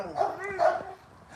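A bandog gives two short, high whining barks close by, with a quieter yip between them, over a low background hum.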